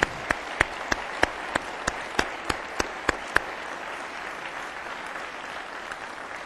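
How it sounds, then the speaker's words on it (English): Applause for Norman Polsky at an investing talk, with a dozen sharp, evenly spaced claps standing out close by over a softer background of crowd clapping, then only the quieter wash remains. "Norman deserves a huge round of applause"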